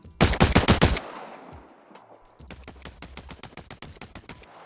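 Synthesized gunshot sound effect built in Unreal MetaSounds, firing a rapid burst of loud shots followed by a reverberant tail, then a second quieter, more distant-sounding volley of repeated shots with a long reverb wash.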